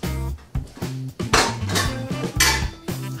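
Chilli con carne ingredients tipped into a cooking pot, with a run of clanking metal and utensil knocks against the pot in quick, uneven bursts.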